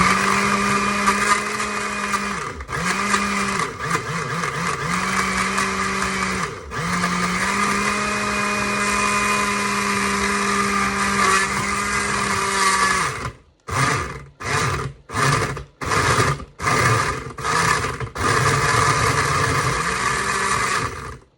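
A kitchen blender blending with water whirs loudly and steadily, then switches to short bursts as it is pulsed on and off several times.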